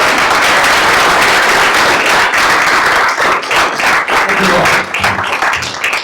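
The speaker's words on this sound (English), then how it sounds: "So let's please give General Casey a round of applause." A conference audience applauds for General Casey, co-chair of the Let the Vote Coalition. The clapping is dense and steady for about five seconds, then thins out toward the end.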